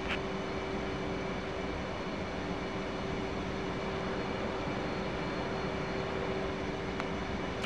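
A jet aircraft engine under power in a flight simulation holds a steady, loud, continuous roar with a faint whine, and no voices are heard.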